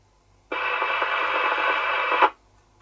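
Realistic TRC1002 handheld 2-channel 1.5-watt CB walkie-talkie transmitting in a field test: a steady, bright buzzing tone that keys on abruptly, holds for under two seconds, then cuts off, close and alone.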